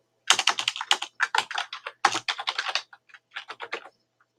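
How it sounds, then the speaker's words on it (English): Rapid keystrokes on a computer keyboard while JavaScript code is typed, in quick bursts of clicks with short pauses, close and clear with no talking. "I'm going to go ahead and type it anyways"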